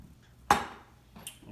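A single sharp knife chop on a board as an apple is halved for a tarte tatin, a close, crisp thud-click followed by a fainter tap a moment later.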